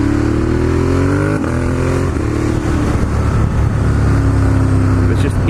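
A Ducati Monster 1200S motorcycle engine revs hard and loud up close, its pitch rising through accelerations with a brief gear change, then settling into a steady roar while someone talks over it.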